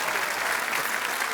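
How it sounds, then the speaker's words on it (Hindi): A comedy talk show studio audience claps for two guests, a loud, dense burst of applause throughout the short moment. "एक बार विशाल सर और रेखा मैम के लिए जोरदार तालियां हो जाएं।"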